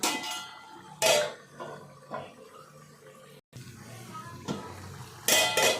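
A metal pot lid clanks as it is set aside during cooking of chicken curry in a home kitchen, a few sharp clattering hits with softer utensil and water noises between, close and moderately loud.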